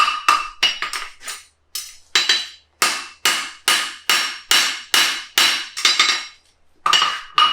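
A hammer strikes a horseshoe during forging to flatten it, about fifteen sharp metallic blows in uneven bursts with brief pauses, close and loud with ringing tails.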